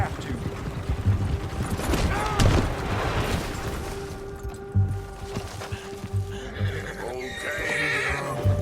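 A white Arabian horse in Red Dead Redemption 2 whinnies loudly, with hoof clip-clop and distant gunfire amid steady game ambience.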